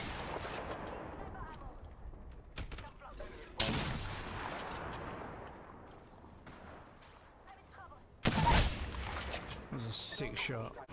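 Gunfire in Apex Legends battle: repeated sharp weapon shots and two loud heavy blasts crack through a busy mix of game sounds, with a voice talking over parts of it.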